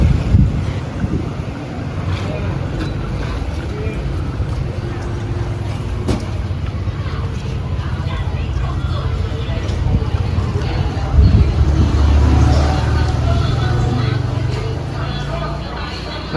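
Open-air ambience of Hua Ro old market on U Thong Road in Ayutthaya, a steady wash of outdoor noise and wind with a few faint thumps and shifting background activity, no clear foreground voices.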